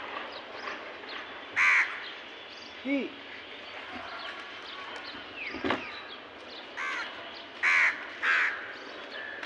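Several crows caw in short bursts outdoors where food is set out for birds, some calls near and loud, others farther off, over a steady insect-like background hum, with a brief spoken word.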